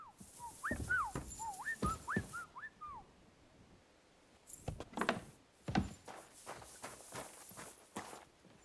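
A dog whimpers in a run of short, rising and falling whines close by, followed by scattered footstep-like thuds and knocks.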